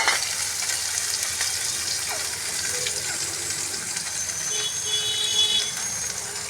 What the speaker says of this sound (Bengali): কাঁকড়ার পাগুলো ভাজা হয়ে গেছে